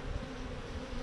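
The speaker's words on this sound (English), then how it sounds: "So these bees are on a pollen flow" Honey bees buzzing on a hive frame during a pollen flow, a dense continuous hum that stays even and faint throughout with no voices.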